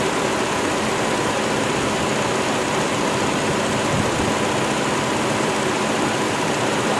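A vehicle engine idles with no revs while carrying a heavy electrical load, giving a steady, unbroken broadband drone that holds at an even level throughout.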